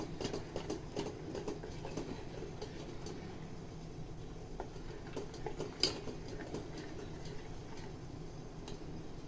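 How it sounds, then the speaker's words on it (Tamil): A spoon mixing a chocolate mixture in a bowl until smooth, a quiet steady run of rapid light ticks and taps against the bowl, with one sharper clink midway. "நல்லா கட்டி இல்லாமல் கலந்துக்கலாம்."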